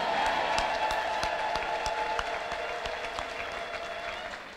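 A church congregation ululates and cheers in praise, a sustained high trilling chorus over a steady wash of clapping that fades slightly toward the end.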